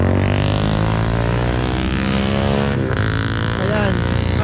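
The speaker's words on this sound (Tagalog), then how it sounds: "maingay lang yung motor." Motorcycle engine idling loud and close, a steady low rumbling drone with harmonic hum throughout, while a person talks over it.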